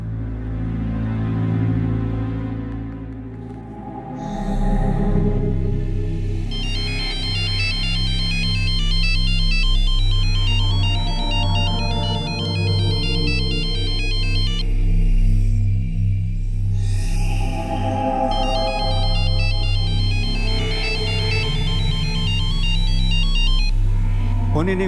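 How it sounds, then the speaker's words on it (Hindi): A phone rings on and on without being answered, a repeating electronic ringtone melody over a loud, low dramatic music bed in a Hindi crime drama scene. "फ़ोन ही नहीं उठा रहा।"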